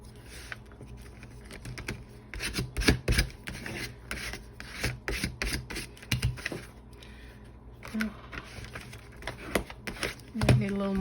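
A small scraper spreads glue across the pages of an art journal, making soft, irregular rubbing and scraping strokes in quick bursts, close and fairly quiet, with a few brief pauses between passes.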